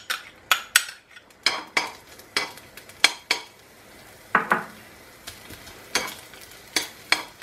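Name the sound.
green beans added to hot olive oil in a pan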